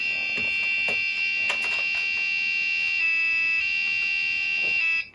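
A loud, steady electronic buzzer from an Agon Light computer board drones continuously for about five seconds with a piercing, alarm-like tone, then cuts off abruptly.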